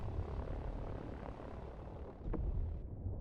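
Helicopters in the real-time strategy game Line War, a steady low rotor and engine drone running throughout, with a brief sharper burst near the end.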